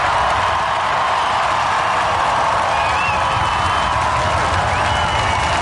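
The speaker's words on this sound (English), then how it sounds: "They're cheering the platitudes" Inauguration crowd cheering Obama's speech, a dense, continuous roar of cheering and clapping from a huge outdoor gathering, loud and unbroken throughout.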